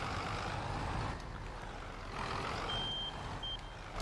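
In Farming Simulator 22, a truck idles with a steady low engine rumble and broadband noise, while a faint high reversing beep sounds twice near the end.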